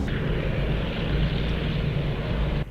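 Steady, loud drone of the piston engines and propellers of a Lockheed PV-2 Harpoon in flight in Flight Simulator X, an even roar holding for nearly three seconds before cutting off abruptly.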